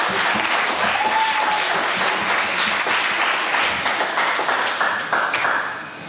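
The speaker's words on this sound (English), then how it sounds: "Let's give a round of applause for our volunteer real quick" A live comedy audience claps for a volunteer called up on stage, a full burst of applause that holds steady and then tapers off near the end.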